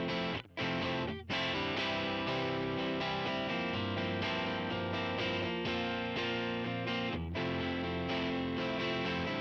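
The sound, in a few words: dry guitar through UAD Dream plugin modeling Fender Deluxe Reverb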